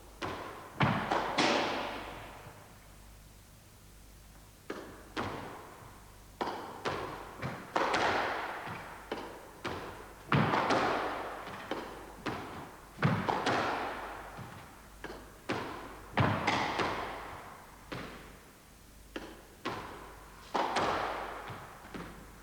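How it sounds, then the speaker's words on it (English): Squash ball struck repeatedly in forehand volley drives on a court, sharp thuds recurring every second or so with hollow echoing decay, close and loud with no talk. "Well, that was forehand volley drive."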